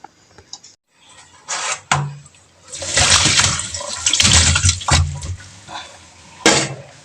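Beef rinsed under running tap water for sinigang, irregular bursts of splashing and gushing water with short pauses, close and fairly loud.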